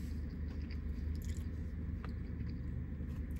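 Close, quiet bites and chewing on a crunchy A&W Nashville hot chicken sandwich, soft crunches and squishy mastication against a low steady background hum.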